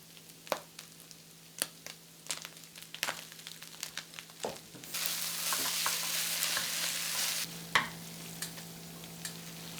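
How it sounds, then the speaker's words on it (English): A 16-ounce pack of Velveeta stirred into browned meat in a pan: repeated sharp scraping taps from the spoon, then a steady soft sizzle that swells midway before the scraping returns. "you're gonna grab a 16-ounce pack of Velveeta and stir it in."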